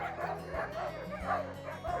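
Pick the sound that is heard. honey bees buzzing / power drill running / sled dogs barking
sled dogs barking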